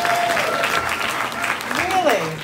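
An audience at a retirement party skit claps for a contestant, a steady, dense wash of applause throughout, with a voice speaking over it and a few whistle-like tones rising above the crowd.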